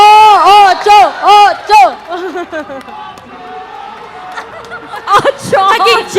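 A crowd at a VALORANT esports grand final in the Philippines chants and cheers in loud rhythmic bursts, with whoops and laughter, close and dense, while voices talk over it.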